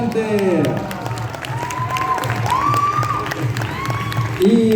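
Audience applause on the red carpet of a children's short film festival, clapping and light cheering from a crowd under a host's voice and whoops.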